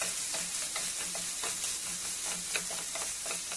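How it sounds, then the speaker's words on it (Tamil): Baby corn manchurian fries in a pan of oil over a low flame, giving a steady, even sizzle close by, broken by soft scraping and clinks from stirring, with no voices. "பேபி மஞ்சூரியன் இதில் ஆட் பண்ணி ஒரு 4 மினிட்ஸ் வரைக்கும் லோ ஃப்ளேமில் வச்சு நல்லா ஃப்ரை பண்ணிக்கிறேன்"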